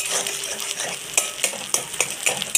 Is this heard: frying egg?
yes